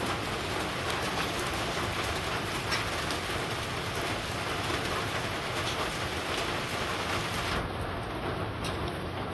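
Steady, dense rain pours down without a break on a Bangladeshi village, a constant broadband hiss of drops striking surfaces close by.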